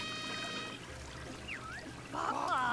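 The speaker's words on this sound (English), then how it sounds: "Yes, it's flushing." A toilet flushing in the video game Yooka-Laylee, a soft watery pour and trickle under quiet game music with brief tonal chirps, faint and continuous.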